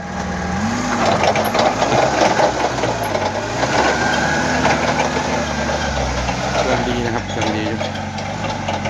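A 1.5-ton forklift engine idles close by with a steady, rough, knocking mechanical rumble, while someone talks over it throughout.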